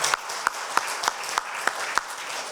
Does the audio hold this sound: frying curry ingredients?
no